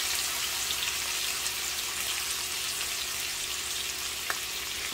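Shrimp frying in a pan, a steady close hiss of sizzling oil that runs unbroken, with one faint tap near the end.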